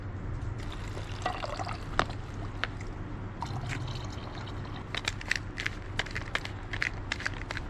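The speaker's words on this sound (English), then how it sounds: "you're going to pour it inside your Nalgene" Hot water, melted from snow, pours into a Nalgene bottle with a steady trickling stream and scattered splashy drips, close and moderately quiet, with no talking.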